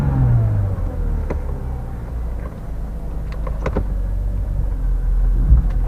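A used car at a Copart auction idles with a low rumble as its transmission is shifted, a drop in engine note at the start followed by a few clicks and clunks over the steady running engine.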